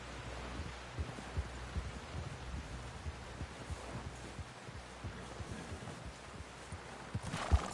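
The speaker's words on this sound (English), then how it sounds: "Someone help John down off this horse" Horse hooves in Red Dead Redemption 2, a soft, uneven clip-clop of steps over rustling ambient noise, fairly faint with a few sharper thuds toward the end.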